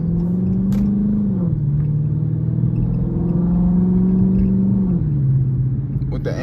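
Car driving at night, its engine humming steadily from inside the cabin and rising in pitch twice as it accelerates, each climb followed by a drop at a gear change.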